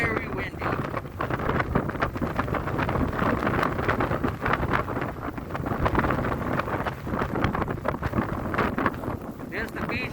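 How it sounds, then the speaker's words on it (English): Strong wind buffeting the microphone outdoors near the ocean beach during a Boston blizzard, a steady loud broadband roar with gusty swells throughout, no talk. "And very windy."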